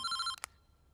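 A telephone bell rings loudly in a short, bright trill in a comedy film scene, then cuts off abruptly and leaves near silence.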